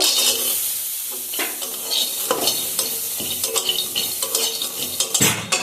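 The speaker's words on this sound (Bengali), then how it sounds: "চীনা বাদামগুলো ভেজে নেব" Peanuts are fried in a pan while being stirred, producing a loud, continuous sizzle broken by rhythmic scraping and rattling of the nuts against the metal.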